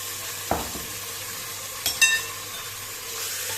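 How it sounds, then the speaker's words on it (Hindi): Marinated beef frying in masala in a pot sizzles steadily, punctuated by a few sharp spatula knocks and scrapes, one early and a cluster near the middle. "और फिर इसको अच्छा सा भूनेंगे 7-8 मिनट।"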